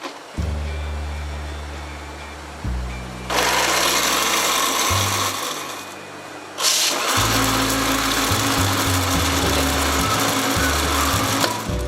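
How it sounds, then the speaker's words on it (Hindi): An electric grinder blends pomegranate juice for children, its motor roaring loud and steady with shifting pitch, stopping briefly and then surging back up; no one speaks. "चलो अब इसको हम अपने ग्राइंडर के ऊपर लगा लेते हैं।"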